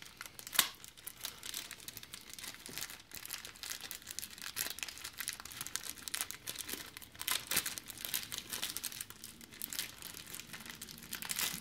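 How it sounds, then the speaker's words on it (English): Tearing and crinkling of PS4 console packaging, with steady rustling and ripping close to the mic and one sharp crackle early on, continuing throughout. "it seems like you do have to actually rip this"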